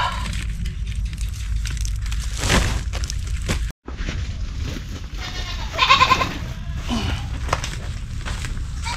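Goat bleats on a farm during the rainy season, several cries sounding over steady background noise, with a louder bleat near the end; no talk.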